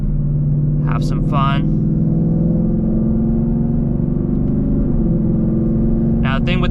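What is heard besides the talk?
Ford Mustang engine downshifting with paddle shifters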